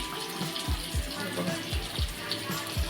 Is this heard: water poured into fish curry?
yes